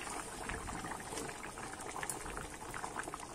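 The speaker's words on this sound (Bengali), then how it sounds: "এবারে আমি একটু ফুটিয়ে নেব" Silver carp fish curry with taro and potato simmering in a pot, a quiet continuous bubbling with a steady, even texture and no voices.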